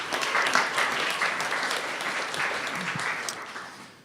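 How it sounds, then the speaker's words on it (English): An audience claps steadily for about four seconds, a dense wash of applause that swells early and gradually tapers toward the end. "give them a round of applause"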